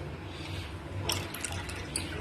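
Dissolved tamarind water being poured into a vessel while making panakam, a steady, fairly quiet watery trickle with a few brighter splashes partway through.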